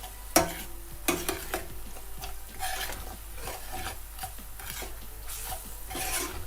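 Ground coriander, red paprika and salt fry briefly in a pan for a cabbage filling, with soft sizzling under repeated spoon scrapes and stirring scratches and a sharper knock near the start.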